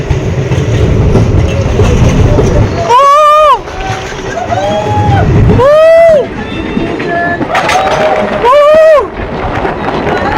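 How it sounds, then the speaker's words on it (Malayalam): A train running through snow between Banihal and Srinagar, heard from inside as a loud, steady rumble and rattle, with voices rising over it at intervals. "ട്രെയിൻ അടുത്തൊരു റെയിൽവേ സ്റ്റേഷനിലേക്ക് എത്തിക്കൊണ്ടിരിക്കുകയാണ്."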